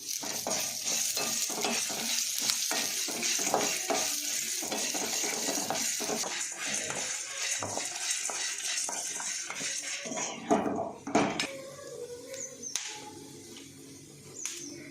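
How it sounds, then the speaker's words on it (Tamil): Asafoetida, coriander seeds, dried chillies and curry leaves fry in hot oil with a steady close sizzle, while a spoon stirs and scrapes the pan throughout, sharper clatters near the end. "காயம் பொரிஞ்சிட்டு இப்போ மல்லியும் வத்தலையும் போடுவோம் கொஞ்சோட கருவேப்பிலையும் நம்ம போட்டுக்கலாம்"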